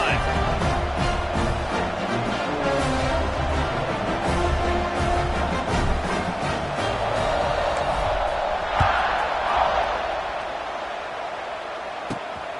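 Stadium crowd noise in the college football game NCAA 26, a steady wash of roaring spectators at a kickoff, loud and constant, with a commentator talking over it and the crowd easing off near the end.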